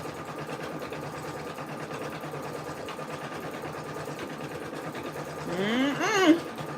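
An embroidery machine stitches the outline of a face in a rapid, steady mechanical whir that continues throughout, with a short vocal sound near the end.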